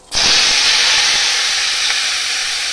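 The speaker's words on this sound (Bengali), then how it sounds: "আমি একবার একটু জিরে ফোড়ন দিয়ে দিলাম, সেন্টটা ভালো আসবে" Cumin seeds dropped into hot oil for tempering dal set off a sudden loud, sustained sizzle right up close, a dense hiss that holds steady and fades only slightly, with no talking.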